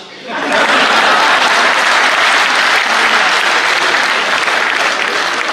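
Loud, sustained audience applause fills a Hindi comedy poetry gathering, starting abruptly after a brief quiet moment and continuing as a dense wash of clapping without letting up.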